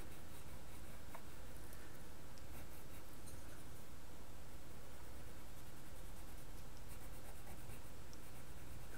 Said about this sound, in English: So I've got kind of a duller pencil. And I'm just pushing the color in here.